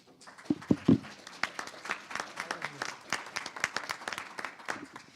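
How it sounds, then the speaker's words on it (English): Audience applause for school board candidates at a League of Women Voters candidate forum, starting with a few loud near claps and then settling into a moderate, fairly thin round of clapping from a modest crowd. "Let's give them a big round of applause"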